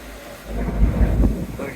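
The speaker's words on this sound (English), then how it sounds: "Oh, I just heard thunder." Low rolling rumble of thunder heard from aboard a sailing boat, a brief muffled swell of roughly a second that rises and fades, moderately loud with no talk.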